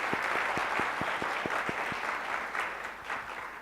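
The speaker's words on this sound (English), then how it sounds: "a round of applause as well" An audience at a Society of Women Engineers keynote breaks into applause, a dense, steady wash of many hands clapping that tapers slightly toward the end, heard alone without voices.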